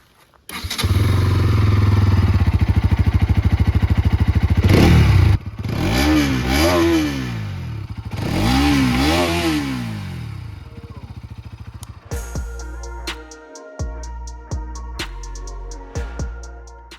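A 2023 Bajaj NS200 motorcycle is ridden with a loud, steady engine and exhaust drone that rises and falls through several revs, then drops to a lumpier idle with sharp throttle blips near the end.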